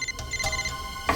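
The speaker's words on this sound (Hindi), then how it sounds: "फोन कहां बज रहा है?" A phone rings inside a drawer in an office, with short muffled electronic tones repeating in quick bursts at moderate loudness and nothing else around them.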